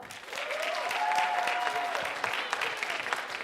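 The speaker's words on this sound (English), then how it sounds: "please applaud." Audience applause at a live writers' debate bout, cast as a vote for a contestant, with moderate crowd clapping building and then tapering, fairly distant, with a faint tone in the background.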